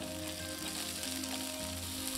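Steady, close sizzling of onions frying in a hot pan for cauliflower manchurian, a continuous crackling hiss with no talking.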